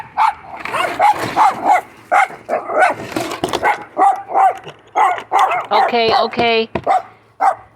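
A dog barks repeatedly at a gate as it is opened, loud and close, with a rapid run of sharp yips near the end, while a person speaks briefly over it.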